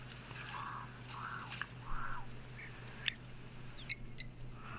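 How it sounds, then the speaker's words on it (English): European bee-eaters, Cape crows and a blacksmith lapwing call in the open bush at Okaukuejo, a few soft trilling calls and sharp clicks at moderate distance over a steady hum and insect background. "Able to hear some of those European bee-eaters, Cape Crows, that blacksmith lapwing right in front of us."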